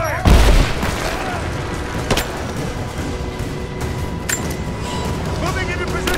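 Gunfire and heavy booms in the action game Rise of the Tomb Raider, with a big impact near the start and sharp shots scattered through a busy battle soundscape, while voices call out over it.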